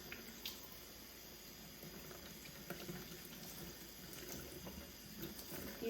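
A human hair wig topper rinsed under warm to cool running tap water, a faint steady splashing stream with small irregular spatters.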